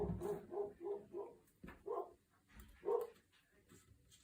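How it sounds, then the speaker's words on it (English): A dog barks in a string of quick woofs, then a few slower single barks, heard faint and somewhat distant under a low hum, with no talk. "Doggy's barking."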